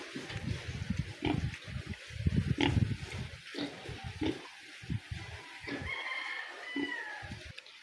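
Pigs grunt and oink close by, with chickens clucking and a rooster crowing in the mix on a backyard farm, as people talk over the animals.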